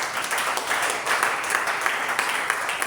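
A church congregation at a seminar applauding the Lord, steady sustained clapping filling the room at moderate loudness with no break.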